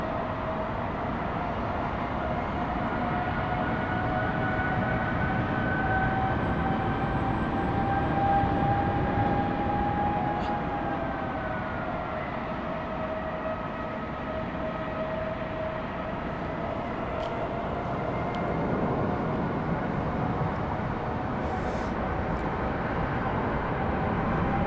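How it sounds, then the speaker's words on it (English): A jet airliner departing Heathrow Airport roars steadily at a distance for the whole stretch, a broad, sustained engine rumble with a faint whine drifting in pitch. "Oh, look at that first aircraft"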